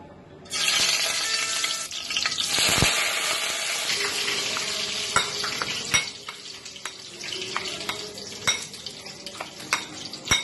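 Whole spices crackle and sizzle in hot soybean oil for a chicken roast, a loud close fry after a sudden onset, with steady hiss and frequent clicks and scrapes from stirring, no voices.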